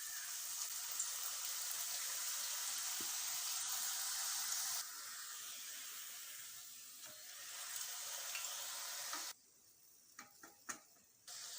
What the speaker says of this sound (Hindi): दूसरी तरफ घी गर्म हो गया, इसको पराठे के उठाएंगे और ऐसे इसमें डालेंगे।